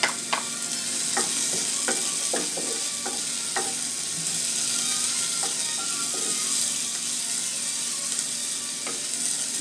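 Garlic sautés in hot oil with a continuous sizzle and frying hiss. A utensil scrapes and taps against the pan in irregular bursts as the garlic is stirred.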